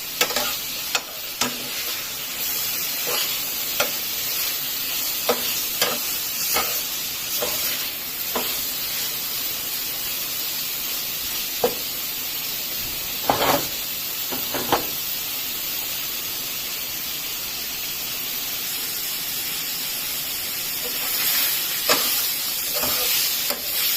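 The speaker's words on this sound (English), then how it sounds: "I've been frying the prawn for about 3 to 4 minutes now." Steady sizzling and hissing of prawns frying in a pan, with intermittent scraping and clinking from stirring, close up and continuous.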